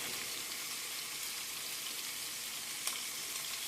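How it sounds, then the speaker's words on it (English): A pot roast sears in a hot pan, giving off a steady, even sizzle and crackle with no break and one small pop near the end. "You're only going to sear it for about 2 to 3 minutes on each side"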